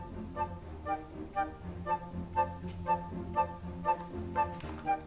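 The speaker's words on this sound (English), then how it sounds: "So this is the flutes on their own." Flutes play a light, repeating melodic figure in evenly spaced notes with a soft low accompaniment underneath, moderately quiet and close.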